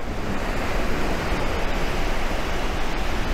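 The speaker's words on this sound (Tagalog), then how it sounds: "Lakas ng alon, ang sarap." Strong ocean waves break at Bulabog Beach in Boracay, a constant loud wash of surf and rushing water, with wind buffeting the microphone and no voices.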